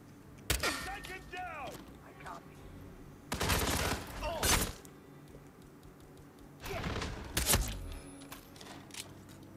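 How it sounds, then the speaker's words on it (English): Gunfire in the video game Hitman Freelancer arrives in three loud bursts of shots separated by quieter stretches, with faint mechanical creaks between them. "All you need to do is shoot it to get it down"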